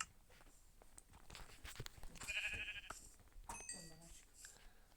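Sheep bleating in the Minecraft survival game, a short digital bleat around the middle of the stretch amid other game noises and footsteps, moderately quiet.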